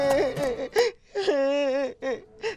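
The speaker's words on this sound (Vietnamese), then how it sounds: "Anh xuống ngựa khi nghe thấy tiếng khóc não nề" A character in a Vietnamese animated film cries mournfully, with drawn-out wavering wails broken by gasping sobs, loud and close with no other sounds around.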